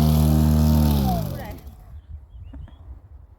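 A tractor mowing grass behind a rural house, its engine droning loud and close for about a second and a half before cutting off abruptly, leaving faint background noise and a voice.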